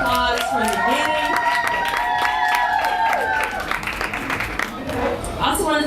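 Crowd applause and scattered cheers at a live music venue blend with sung or spoken voices, clapping continuous and moderately loud beneath the tonal vocal line.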